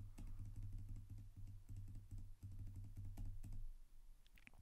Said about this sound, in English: I'm just going to keep hitting the delete button on my keyboard